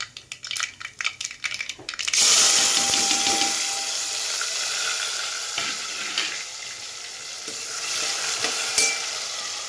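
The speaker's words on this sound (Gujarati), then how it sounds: "હવે કરવાનો છે રાઈ અને જીરુંનો વઘાર" A few sharp clicks and taps, then a loud, sustained sizzle as mustard seeds and cumin hit hot oil for tempering, hissing and crackling steadily close by.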